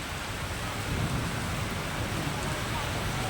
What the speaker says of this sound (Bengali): দেখুন মুষলধারে বৃষ্টি পড়ছে